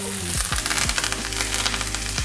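Butter drops into a hot pan beside a steak and sizzles loudly and continuously, a dense close frying hiss with brief low clunks at the start.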